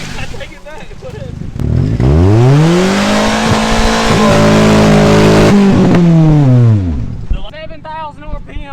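A cheap secondhand race car engine revs up hard and holds at its 7,000 RPM rev limiter for several seconds, loud and close, then drops back down, with people talking briefly before and after.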